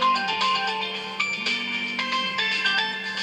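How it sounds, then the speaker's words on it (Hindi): A mobile phone ringtone plays a bright, repeating electronic melody, steady and fairly loud and close for several seconds, with no talking over it. "मेरा फ़ोन तंग कर रहा है"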